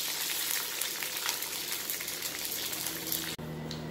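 Curry leaves fry in hot oil for a Kerala-style elephant foot yam poriyal, giving a dense, continuous crackling sizzle up close. A sudden brief drop near the end interrupts it before it settles down again.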